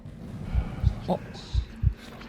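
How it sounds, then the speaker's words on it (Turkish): A heartbeat effect in a horror video game, with low, muffled thumps arriving in pairs, close and steady over a faint droning background and a short higher tone. "Ne zaman bir kalp sesi geliyor o zaman yapmam gereken ilk şey sadece durmak."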